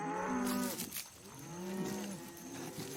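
A cow moos loudly twice in an animated cartoon, a long low bellow followed by a second drawn-out call, close by with some background noise.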